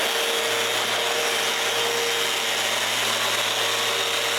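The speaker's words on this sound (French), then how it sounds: "pour chanfreiner les coins avec la sableuse" Continuous loud whir of an electric sander chamfering the corners of wooden parts close by, steady and unbroken, with no voices.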